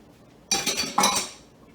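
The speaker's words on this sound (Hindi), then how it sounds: "अब मैं सेमी स्वीट चॉकलेट चिप्स अंदर डालूंगी।" Semi-sweet chocolate chips tumble into shortbread dough in a bowl. Two close, bright clattering bursts rattle for a moment and then fade.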